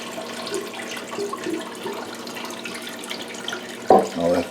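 Liquid from a batch of hot pepper relish drains into a kitchen sink, a steady close-up trickle and splash with faint clatter, ending in a brief louder gush.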